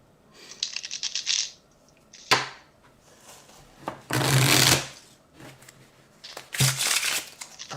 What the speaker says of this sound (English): I need to reshuffle all these cards.